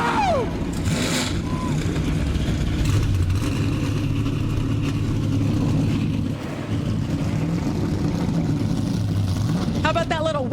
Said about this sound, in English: excited to see those engines ready to go